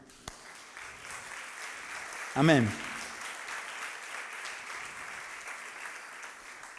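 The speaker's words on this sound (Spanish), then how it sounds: "Y damos un fuerte aplauso al Señor" A church congregation applauds steadily through a Spanish-language sermon, the clapping a diffuse wash with one voice calling out briefly over it partway through.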